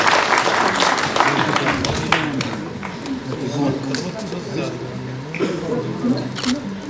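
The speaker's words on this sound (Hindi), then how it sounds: "तो तालियां हो जाए।" An audience claps at a felicitation ceremony for NEET achievers at a career institute in Srinagar, a continuous patter of applause running for several seconds while people talk over it.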